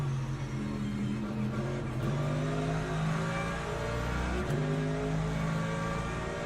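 Racing car engine in the Le Mans Ultimate sim, a steady loud drone with shifting rev harmonics and brief dips as the car coasts and accelerates, continuous throughout.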